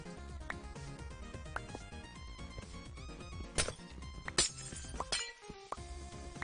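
Glass blocks breaking in a Minecraft Java game: a few sharp, bright shattering crashes scattered over continuous background music, with no talk.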